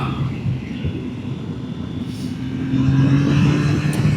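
Engine of a Triumph Tiger Sport triple-cylinder motorcycle, an 800 or 660, held at a steady drone while riding, then rising slightly louder as it revs up, accompanied by wind rush.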